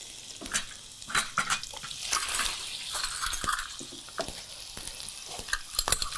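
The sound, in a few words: ladling pasta water into the pan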